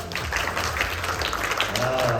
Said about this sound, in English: Can those who answered Mariah Carey clap? Clap, clap.